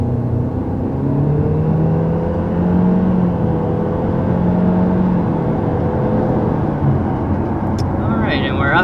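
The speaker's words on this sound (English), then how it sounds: "Up to 60 miles an hour with this 2021 Chevy Malibu" A 2021 Chevy Malibu RS with the base 1.5L turbo engine accelerates up to 60 mph, a steady engine drone rising in pitch under continuous cabin road noise, with a person talking over it.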